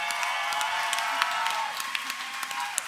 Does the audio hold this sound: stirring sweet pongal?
no